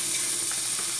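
Beef brisket, about two kilos, sizzling as it goes into a preheated pressure cooker, a loud steady frying hiss with no talk.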